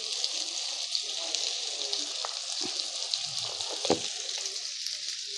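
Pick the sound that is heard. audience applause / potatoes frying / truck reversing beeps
potatoes frying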